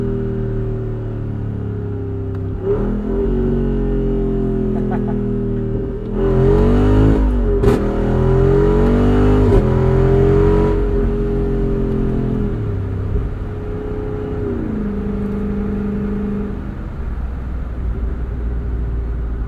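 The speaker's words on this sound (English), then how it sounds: "Jeep's done a fantastic job tuning this exhaust." A Jeep Wrangler 392 V8 rumbles loud and close through its tuned exhaust, with blips of revving in the middle and a deep, steady burble before and after.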